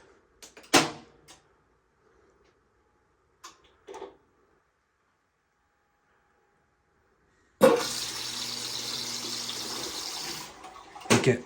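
Cold water rushing into a Bosch washing machine that had a fault of filling nonstop, a steady loud gush starting abruptly after a few clicks and knocks, then cutting off near the end.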